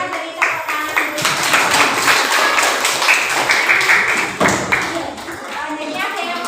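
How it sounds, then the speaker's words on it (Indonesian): Classroom applause from students, a burst of clapping with scattered taps and thumps, fairly close and filling the room, with children's voices mixed in. "Kita beri tepuk tangan dulu."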